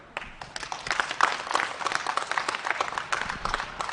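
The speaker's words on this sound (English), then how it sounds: "I think we should give them a round of applause" Scattered applause from a thinning crowd at a junior beef cattle show, a steady patter of claps for the exhibitors lasting a few seconds, moderately near and without talk over it.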